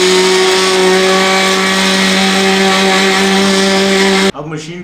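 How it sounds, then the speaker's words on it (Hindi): A juicer-blender machine runs steadily for mayonnaise, a loud close motor whine with strong even harmonics that cuts off abruptly near the end, leaving a short clatter. "तो सबसे पहले हम थोड़ी देर जूसर को चला लेंगे, मशीन को, तकरीबन 5 से 10 सेकंड के लिए।"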